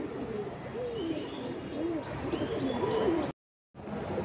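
Silver pigeons, both males, cooing in soft repeated rolling calls close by, with faint chirps in the background and a brief dropout near the end.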